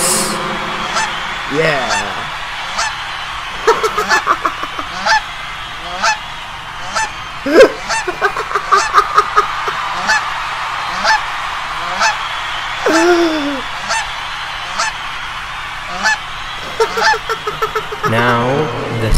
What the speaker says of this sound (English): the honking of the geese